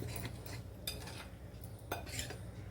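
Dhokla batter is mixed with Eno in a bowl, with a spoon clinking and scraping against the bowl in quick, irregular strokes over a quiet background.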